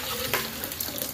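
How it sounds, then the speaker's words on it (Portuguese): Water is poured into a pot of cooked cassava and potato, a short burst of splashing and gurgling with a few sputtering pops, close and moderately loud, no talking. "Vou colocar um pouco de água aqui."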